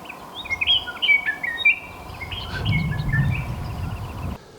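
A Scott's oriole sings near a desert campsite where desert and chaparral species mingle, its clear, whistled phrases arriving in quick bursts, fairly close, over a low background rumble.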